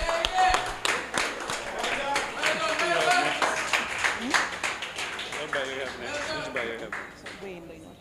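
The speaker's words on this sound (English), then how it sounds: "join us in a rousing round of applause" Audience clapping at a gala honoring student athletes, a loose patter of hand claps under an announcer's amplified voice, fading as the talk continues.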